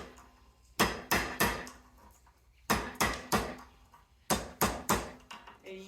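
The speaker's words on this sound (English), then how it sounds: "Just take a hammer here." A hammer strikes plastic-coated copper cable inside aluminum shielding, three quick bursts of three or four sharp blows each, loud and close with pauses between, no talk.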